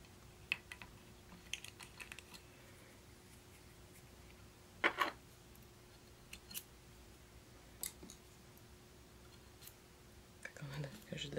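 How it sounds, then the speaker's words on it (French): Scissors snipping tying thread while tying a predator fly, a few sharp isolated clicks and cuts spread through a quiet stretch, with a louder snip in the middle and a cluster of small clicks at the end. "Quand j'ai de la misère à couper mon fil, je me dis c'est bon signe, j'ai le bon fil."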